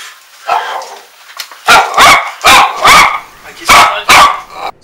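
Dog barking close and loud inside a house, several sharp barks in an uneven rhythm with a few quieter yips before them, no talking.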